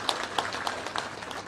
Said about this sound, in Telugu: మీకు అందరికి కూడా పింఛన్లు వస్తున్నాయని నమ్మకం ఉంటే గట్టిగా చప్పట్లు కూడా చెప్పండి